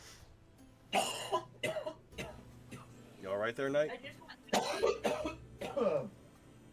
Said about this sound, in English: I've been coughing for a few days.